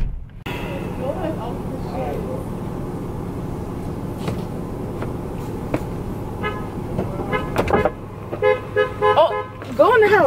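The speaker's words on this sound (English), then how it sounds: "Who honking the horn for you?" Car horn toots sound outdoors on a street, with a few short honks near the end over traffic noise while people talk nearby.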